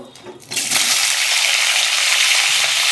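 Potatoes, eggplant and carrots hitting hot oil in a wok, bursting into a loud, steady hissing sizzle after a brief quieter moment at the start, continuing evenly and close.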